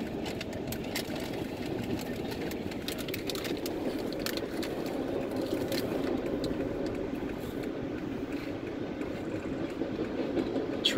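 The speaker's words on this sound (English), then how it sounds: "Train in Acadiana." A train rolls through a railroad crossing near LA 182 in the New Iberia area of Louisiana, a steady, continuous mid-distance rumble of wheels and engine with faint rattling clicks, no speech.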